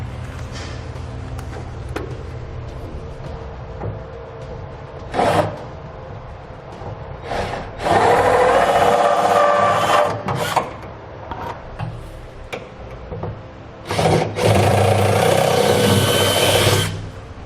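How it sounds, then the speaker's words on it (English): A power drill whirs in several short bursts, drilling pilot holes into the metal bed of a 2015 Ford F-250 pickup truck, with brief pauses between, close and loud. "drill a small pilot hole in the dead center of these 2"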